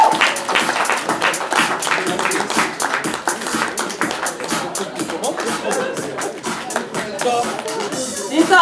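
Dense, continuous audience clapping at the player presentation of the Slavyanka women's football club, a steady patter of many hands filling the room from start to finish.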